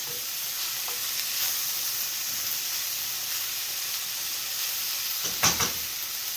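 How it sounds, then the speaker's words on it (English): Onions sizzle steadily in a pan while cooking down toward golden for a Sicilian-style focaccia pizza, a continuous close frying hiss with a brief stir near the end. "I'm going to make this cook down because I want my onions to be golden"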